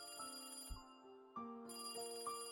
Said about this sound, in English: Then the phone rang.